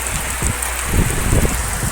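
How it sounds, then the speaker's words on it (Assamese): Rain falls steadily, a close continuous patter with heavier drops splashing throughout. "হঠাতে বৰষুণ হৈ গ'ল।"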